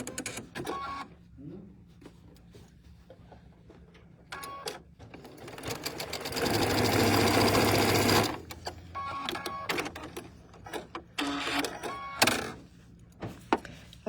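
A sewing machine stitching quilt pieces in short bursts of rapid mechanical whirring, with one longer steady run in the middle, plus clicks and handling noises between runs and a voice heard faintly.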